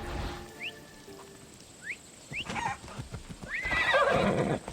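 A horse mount in the video game Assassin's Creed Odyssey whinnies several times in short rising calls, with hoof clip-clops and a louder burst near the end, fairly close and clear.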